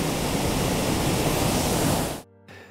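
Aasleagh Falls pours in a loud, steady, close rush of falling water that breaks off abruptly near the end, leaving near silence.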